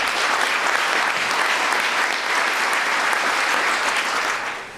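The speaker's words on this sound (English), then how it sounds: "So I think you ought to give these guys another big round of applause." Sustained, loud applause from a large audience at a State of the City and County address in Montgomery, Alabama, dense steady clapping that holds for several seconds before tapering slightly at the end.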